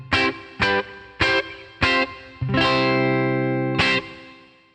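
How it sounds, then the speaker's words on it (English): Electric guitar through a Headrush unit's medium plate reverb: five sharp, distorted chord stabs in a rhythmic pattern, then a sustained ringing chord with a lingering reverberant tail, ending on one more short stab. "we also have things like a medium plate, which is a very popular reverb"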